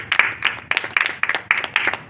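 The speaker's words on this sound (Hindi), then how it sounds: "चार्ल्स भाई के लिए जोरदार ताली।" An audience at a Hindi-language religious teaching gives a vigorous round of applause, with sharp, closely spaced claps from a small group, rhythmic and near, for about two seconds.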